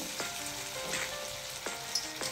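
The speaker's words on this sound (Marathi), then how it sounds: "हे आता आपण तेलामध्ये डीप फ्राय करून घ्यायचं आहे" Potato snack balls deep frying in hot oil give a steady, close sizzle and bubbling crackle that runs throughout, with a few soft stirring scrapes and no talking.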